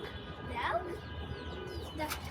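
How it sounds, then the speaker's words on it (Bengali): A pigeon visiting a home coos softly in a couple of brief calls at close range over faint background noise. "গাইস আবার কবুতরটা আসছে"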